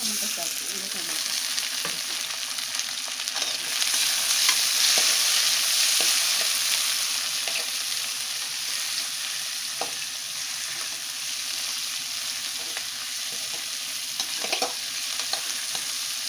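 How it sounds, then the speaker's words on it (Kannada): Food sizzling and frying in a pan as it is stirred until brown, with a continuous close crackle and occasional scraping clicks from the stirring. "ಸ್ವಲ್ಪ ಎಲ್ಲ ಬ್ರೌನ್ ಕಲರ್ ಬರೋವರೆಗೂ ಇದೇ ಥರ ಫ್ರೈ ಮಾಡ್ಕೋಬೇಕು"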